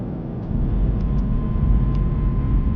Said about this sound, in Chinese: 飞机降落了